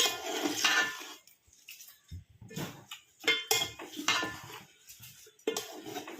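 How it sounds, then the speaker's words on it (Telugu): Drained rice and chicken for biryani being mixed in a pot, giving close, irregular clinks and scrapes of a utensil against the metal pot in short bursts with brief quiet gaps. "ఇప్పుడు ఇదంతా కలపాలి చికెన్ ఇరుక్కోకుండా జాగ్రత్తగా కలపండి"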